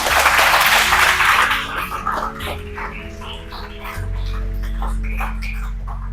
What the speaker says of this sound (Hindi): इसके लिए एक बार फिर जोर से तालियां जो है